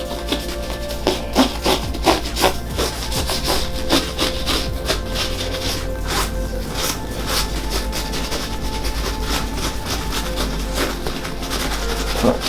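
Sneakers are rubbed clean with cleaning wipes, a close, rhythmic scrubbing and rasping that repeats steadily throughout with no voices.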